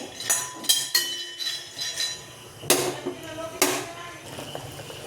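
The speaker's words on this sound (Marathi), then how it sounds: "शेंगदाणे भाजून घेऊ छान बारीक गॅसवर" Peanuts roasting in a pan over a low flame rattle and clink as they are stirred, producing repeated scraping and tapping strikes with a steady background hiss, close by and moderately loud.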